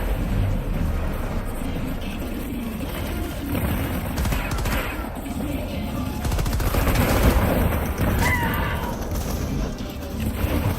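Gunfire and explosions rattle through a firefight in the video game Helldivers 2, rapid bursts and heavy blasts layered over a dense, continuous roar, loud and close throughout.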